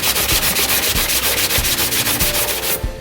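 A Scotch-Brite pad scrubs the faces of a custom Mastermorphix puzzle cube in fast, steady back-and-forth strokes, producing a loud, close, continuous abrasive rasp that briefly softens at the end.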